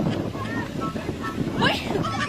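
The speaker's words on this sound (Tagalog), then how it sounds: "Ang lakas naman ng hangin." Strong wind buffets the microphone at a seaside campsite, a rough continuous rumble with gusts, while people talk over it.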